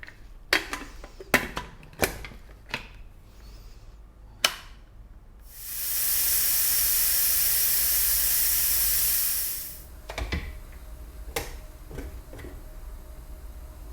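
A pressure cooker cooking lamb bone broth lets out a loud, steady steam hiss lasting about four seconds mid-clip, with scattered kitchen clicks and knocks before and after.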